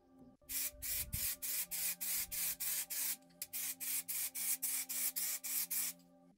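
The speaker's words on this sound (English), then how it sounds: "I sand the cut clear acrylic with 2000 grit" Rhythmic back-and-forth strokes of 2000-grit sandpaper on clear acrylic, about sixteen even rasping passes in steady succession, close and fairly loud over a faint hum.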